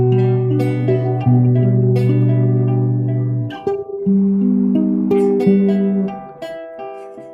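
Solo electric guitar playing a chord melody arrangement of a song, with sustained chords and melody notes ringing clearly and close, several chord changes, no talking.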